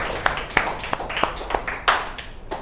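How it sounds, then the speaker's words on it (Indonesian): Classroom applause from students during a micro-teaching lesson: about nine distinct claps in an uneven, sparse rhythm, fairly close and moderately loud, with no talking. "tepuk tangan dulu"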